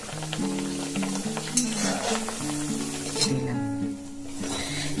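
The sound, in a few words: Dhakai paratha frying in oil in a pan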